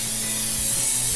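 Cooking spray hisses steadily from a can onto the bottom of a baking pan for lemon bars, one continuous close, fairly loud spray with no pauses.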